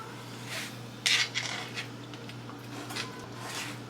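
Knife trimming fat off a raw steak on a cutting board in a home kitchen, a few light scraping and tapping strokes against the board, close but fairly quiet, with a low steady hum underneath.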